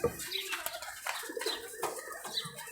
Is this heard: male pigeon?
yes